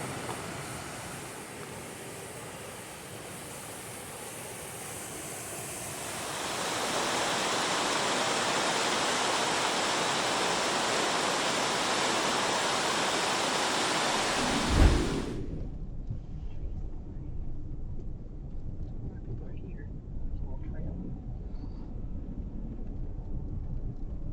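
Rushing roar of river rapids at New River, broad steady noise growing louder, then a sudden thump and the roar cutting out to quiet background.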